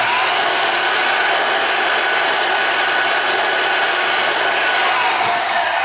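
A mini vertical metal band saw runs at its lowest blade speed, giving a steady, continuous whirring motor and blade hum that stays loud and even throughout, with no cutting or voices.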